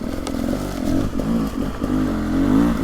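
A 2024 Beta 300 Race Edition two-stroke dirt bike engine revs loudly and close by, rising and falling as the throttle rolls on smoothly, with a rattly, clattery exhaust tone throughout.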